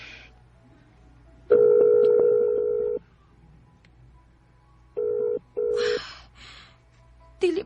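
A telephone ringback tone purrs in two bursts, a long one and then a pair of short ones, as a call is placed in a Cebuano radio drama, with quiet gaps between and a brief higher electronic chirp near the end.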